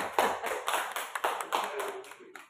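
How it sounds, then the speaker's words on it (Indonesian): A small group at a teachers' meeting claps for a teacher, a few nearby hands producing sparse, uneven claps that quiet toward the end. "tepuk tangan untuk Ibu Sinta."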